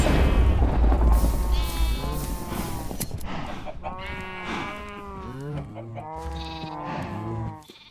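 Sheep in the video game SF5 give a series of wavering, nasal bleats, several calls overlapping one after another over about eight seconds, close and fairly loud against faint background game sounds.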